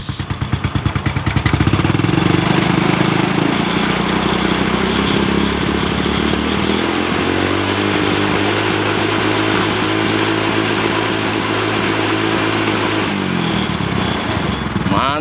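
A motorcycle engine fitted with a homemade DC CDI ignition idles and then revs up, holding a loud, steady buzzing drone close by before the revs fall away at the end.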